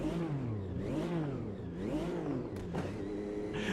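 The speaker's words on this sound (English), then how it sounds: "let's check out some turbo sounds from the mad Gen 3 Formula Retro" Gen 3 Formula Retro turbo racer in Automobilista 2, its engine revving up and down in quick wavering swells, then a crisp shift with a hiss of turbo air near the end, close and without voices.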